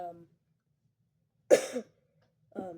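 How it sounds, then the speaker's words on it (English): A single sharp cough breaks a quiet pause, with brief bits of a voice just before and after. "sorry, I'm coughing a little bit"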